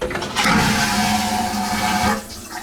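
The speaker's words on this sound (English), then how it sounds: "And of course, the Mega Flush toilet." A Mega Flush toilet aboard the Norwegian Joy cruise ship roars in one loud, sustained rush of water and suction, close and steady for a few seconds before easing slightly at the end.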